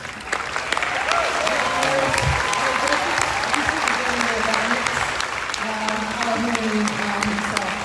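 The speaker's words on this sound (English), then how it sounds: "another round of applause for, I don't know, Nusrat" An audience applauds Ustad Nusrat at a CD launch event, sustained crowd clapping that stays steady and full throughout, with faint voices and tones beneath it.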